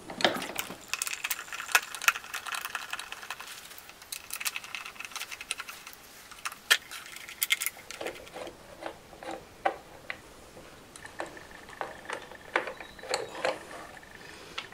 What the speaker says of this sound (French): Lorsque vous avez complètement desserré les 6 vis qui maintiennent le capot de votre boîte à air d'origine